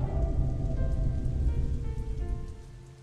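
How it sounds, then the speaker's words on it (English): Steady rain pours down in the puzzle video game Aloof, a dense, even patter filling the scene throughout with faint tonal game sounds threaded over it, easing slightly toward the end; no one speaks. "It's filling up with rain."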